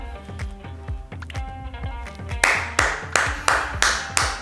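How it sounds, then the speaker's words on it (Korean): Sharp claps in a steady rhythmic run, about six loud slaps spaced evenly near the end, following a softer patter of taps; it is the 'gosaeng' applause that greets the end of a magic show after the stage goes dark. "그 다음에 이제 고생 박수가 있습니다"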